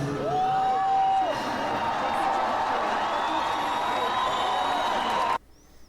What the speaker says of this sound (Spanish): todos los Deers y las Deers están ahí gritando y se están emocionando